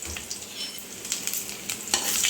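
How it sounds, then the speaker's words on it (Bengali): Chopped ginger and garlic fry with cumin in hot oil for a masoor dal tadka. Steady sizzling is heard with a few sharper crackles and stirring scrapes, close and moderately quiet. "জিরের পরে অ্যাড করছি এই চপ করে রাখা আদা আর রসুন"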